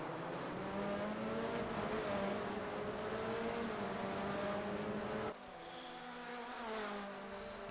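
Touring race cars in a TCR race at a circuit, one engine droning loudly nearby with rising and falling pitch as it works through the gears, then the tone drops and another car's note takes over.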